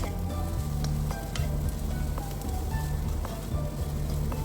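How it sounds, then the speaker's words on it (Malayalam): Cabbage and mixed vegetables sauté in a pan for chicken soup, giving a steady close sizzle with occasional stirring clicks beneath continuous background music. "ക്യാബേജും ചേർത്ത് എല്ലാം നന്നായിട്ടൊന്ന് മിക്സ് ചെയ്ത് ജസ്റ്റ് ഒന്ന് വഴന്ന് വരണം"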